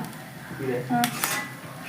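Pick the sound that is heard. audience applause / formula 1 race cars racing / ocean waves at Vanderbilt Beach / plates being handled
plates being handled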